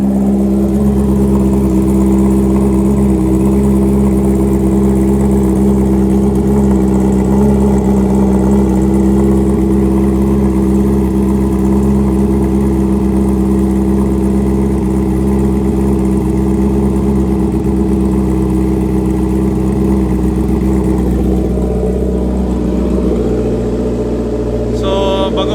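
A Honda CB650R motorcycle idles loud and close from a cold start, a steady deep rumbling exhaust drone that holds evenly throughout, with a slight change near the end.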